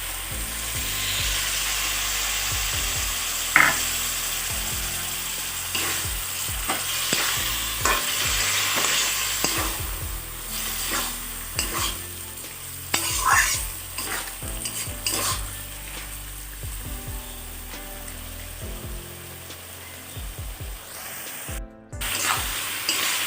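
Mixed vegetables and spices fry in a pan, a loud continuous sizzle broken by frequent rhythmic scrapes and knocks of a spatula stirring them, heard close up throughout.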